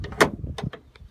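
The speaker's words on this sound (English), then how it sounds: "these doors open wide open," Sliding side door on a 2015 Ram Promaster City Wagon SLT rolling open: a short, sharp mechanical clack and slide lasting about a second, followed by a couple of lighter knocks, close and fairly quiet.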